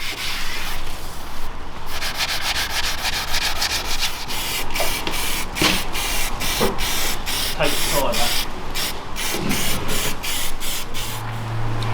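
Spray gun misting paint or primer over a dent-repaired, filled and sanded car body panel on an Audi S4, a steady close hiss broken by short pauses and bursts, with a low hum under it.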